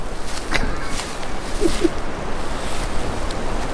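Wind gusts steadily against the microphone in a broad, rushing roar, with a few faint, brief sounds passing underneath.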